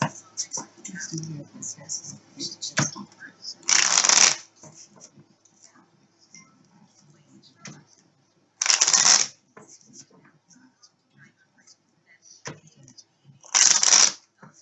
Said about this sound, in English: these are everyday oracle cards